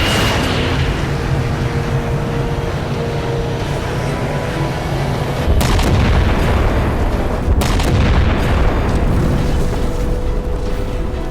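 The UNSC Infinity's ship weapon fires in a Halo 4 cutscene, giving heavy rumbling booms with two sharp blasts midway over a continuous low roar, loud and close, without talk.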